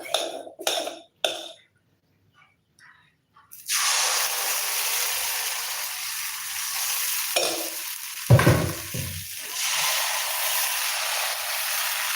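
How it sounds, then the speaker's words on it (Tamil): After a few light knocks and near silence, appam batter is poured into a lightly oiled pan and breaks into a loud, sustained sizzle that stays close and steady, swelling briefly partway through. "இப்ப ஆப்பமாக ஊத்திக்கலாம்"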